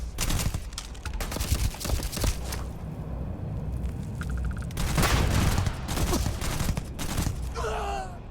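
Weapons fire in the space game Starfield comes in rapid bursts of sharp shots, clustered at the start and again later, mixed with groaning and gasping sounds over a busy game soundscape.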